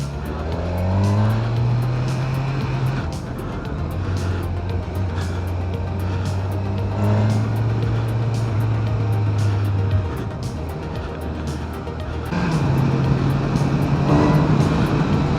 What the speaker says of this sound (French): le moteur est vraiment doux